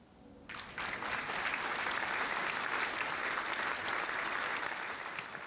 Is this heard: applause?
yes